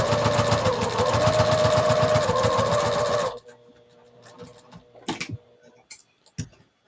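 A sewing machine top stitching fabric runs in a fast, steady mechanical chatter for about three seconds, then stops, leaving quiet room sounds and a few sharp clicks.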